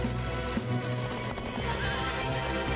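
Cartoon horses gallop in a rapid, even clip-clop of hooves with a whinny breaking through, loud and close, over a steady musical background and no talk.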